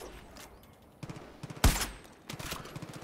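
Bursts of video game gunfire crack intermittently, one shot louder and closer than the rest, over faint background noise.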